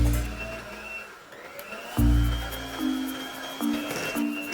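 An electric hand mixer whirs through beetroot cake batter, its motor humming steadily and rising in pitch several times as the beaters work.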